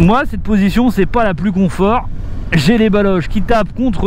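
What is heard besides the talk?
No everyday noise stands out behind the speech.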